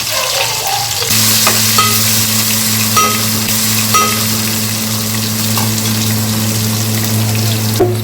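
Onions fry in hot oil for chicken biryani, a loud continuous sizzle with occasional stirring taps, backed by a steady low hum that runs throughout; no speech.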